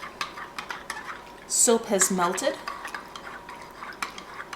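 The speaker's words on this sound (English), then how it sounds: "I'm simply going to stir this together" Homemade dish soap and washing soda being stirred together in a pot on the stove, with soft clinks and scrapes under a woman's brief speech and a quiet background hiss.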